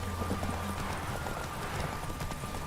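Horse galloping in The Witcher 3 video game, fast steady hoofbeats with a brief whinny, close and continuous under a faint background bed.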